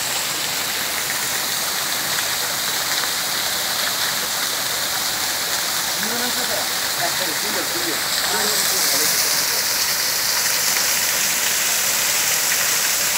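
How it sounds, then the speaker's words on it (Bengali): The Lalghat waterfall roars steadily as water tumbles over rocks, a loud, continuous rushing wash close by, with a voice faintly audible partway through. "প্রচুর পাথর এখানে, এদিক দিয়ে প্রচুর পানি ঝরে যাচ্ছে।"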